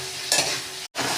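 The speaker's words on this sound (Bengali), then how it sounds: "এবার আমি দিয়ে দেবো সেই ভাজা আলুটা, দিয়ে আবারও ভালো করে কষিয়ে নেব।" A brief burst of sizzling as fried potato is stir-fried with spice masala, close and steady, with a stirring scrape and a momentary cut to silence near the end.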